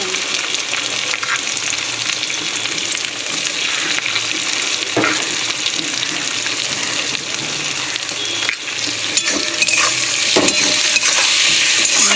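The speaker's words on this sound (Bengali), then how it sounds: "পেঁয়াজগুলো একটু লাল হয়ে গেছে, আমি এখানে কেটে রাখা টমেটোগুলো দিয়ে দেবো" Chopped tomatoes and salt fry with browned onions in a pan, a steady, dense sizzle with stirring scrapes that runs loudly and evenly throughout.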